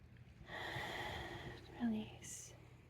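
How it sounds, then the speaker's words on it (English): A person draws one slow, deep breath in during a progressive muscle relaxation exercise, a soft, airy inhale lasting about two seconds, heard close and quiet over faint background wash. "Take a breath in,"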